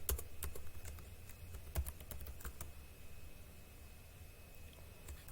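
Python code is typed on a computer keyboard, a quick burst of sharp key clicks at first, then sparser, softer taps over a quiet room hum.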